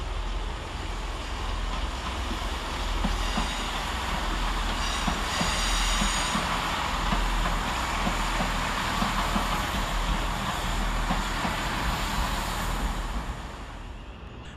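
A Great Western Railway class 165 diesel unit, 165113, rolls through Redhill station on a foggy morning, making a loud, steady rumble with rhythmic wheel clatter and faint squeal that holds throughout and eases slightly at the end.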